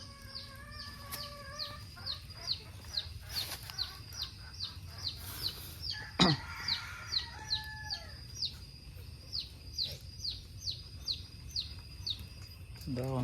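Chickens cluck near the listener while chicks peep in a quick repeating pattern, with one louder squawking call from a bird partway through, all over a soft steady background.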